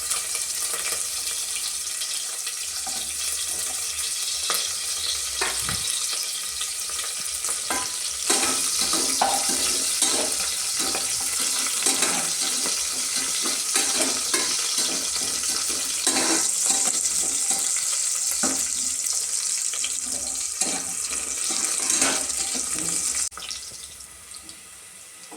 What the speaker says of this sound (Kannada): ಎಣ್ಣೆ ಕಾದ ನಂತರ ಒಂದು ಸ್ವಲ್ಪ ಸಾಸಿವೆ, ಸ್ವಲ್ಪ ಜೀರಿಗೆ, ನಂತರ ಹೆಚ್ಚಿದ ಈರುಳ್ಳಿ